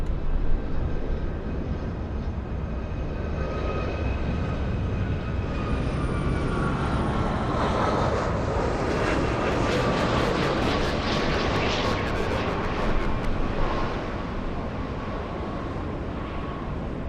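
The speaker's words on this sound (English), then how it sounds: "Let's go for the United Airlines flight from Honolulu." A United Airlines plane arriving from Honolulu at LAX: loud, continuous jet engine roar that rises into a high whine and then holds steady for the whole stretch, with no talking.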